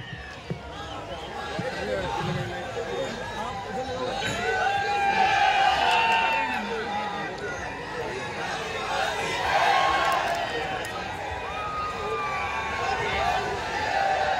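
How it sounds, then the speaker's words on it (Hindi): Crowd cheering and applauding at a tribal cultural unity convention to welcome a speaker onto the stage, a sustained loud hubbub of many voices that swells and fades throughout. "आप तालियों के गड़गड़ाहट से दादा का स्वागत, सम्मान,"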